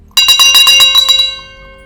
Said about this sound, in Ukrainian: Цим дзвоном я всі сповіщу, що Україну я люблю